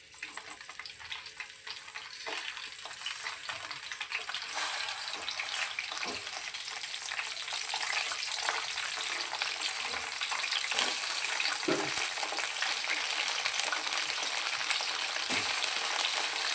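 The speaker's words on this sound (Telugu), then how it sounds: "ఉట్టి వంకాయలు వేసి వేయించుతాను ఫస్ట్." Plain eggplant pieces fry in a pan with a continuous close sizzle that grows slightly louder over time. Occasional soft clicks of stirring break through the hiss, and no one speaks.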